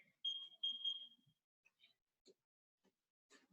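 A timer is being set at a beginner martial arts sparring class, giving a few short electronic beeps early on, then sparse faint clicks, quiet and close.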